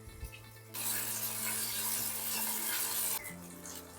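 Crushed ginger and green chili paste dropped into hot oil with cumin for a tempering, a loud hissing sizzle that bursts in suddenly and holds steady for a few seconds before easing back under a low hum.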